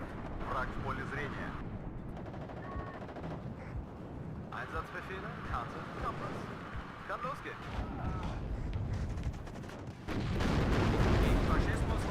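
Artillery fire rumbles through a WARNO real-time strategy battle, a dense, continuous barrage of low booms and crackling impacts that swells louder near the end, with someone talking over it.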